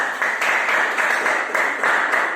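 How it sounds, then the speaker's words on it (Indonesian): A classroom of students claps for a group of classmates, a dense, loud burst of rhythmic applause with pulsing waves close by, no talk over it. "silakan tepuk tangan untuk kelompok 3"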